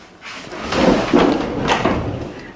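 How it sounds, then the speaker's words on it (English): A pull-out pantry drawer in a small home's kitchen rolls open or shut with a sliding rumble and a few soft thuds, close by and fairly loud. "I also added this, whoa, this pull-out pantry"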